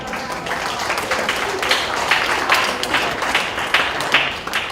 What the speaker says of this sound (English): Let's give Ashton a round of applause